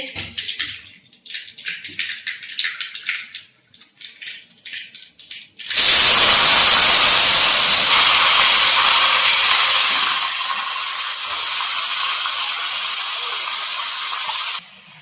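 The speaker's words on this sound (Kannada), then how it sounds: "ಉಪ್ಪಡಿ ಪಚ್ಚಿರು ಒಗ್ಗರಣೆ ಕೊಡ್ತೇರು" Tempering sizzles in a pan for a salted pickle-style curry, bursting in loudly about midway after quieter kitchen sounds and holding a steady, close hiss until it eases near the end.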